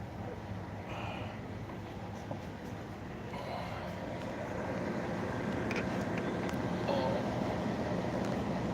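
A steady low rumble of a passing TLK 402 Wydmy train on the Hel Peninsula, rolling on continuously and growing slightly louder, with faint clanks and tones above it.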